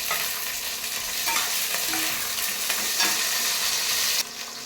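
Green chilies fry with capsicum and other vegetables for vegetarian chow mein. A dense, continuous sizzle runs under scraping stirring strokes, then drops in level near the end.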